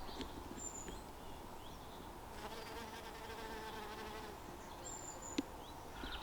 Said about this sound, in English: at least the bees seem to like the nectar from those pink flowers